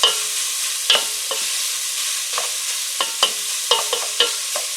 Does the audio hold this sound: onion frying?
yes